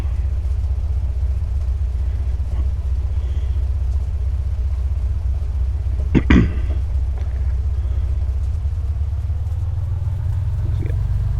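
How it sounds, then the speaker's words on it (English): Simulated Piper Comanche 250 piston engine running leaned out in a flight simulator, a steady low droning rumble throughout with a brief louder click near the middle, no talking. "Just gonna lean it out a bit so you can hear the difference in sound."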